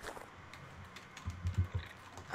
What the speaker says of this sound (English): Who is Tiffany tapping on the keyboard